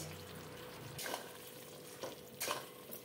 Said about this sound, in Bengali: একটু নাড়াচাড়া করে মাখো মাখো করে নেব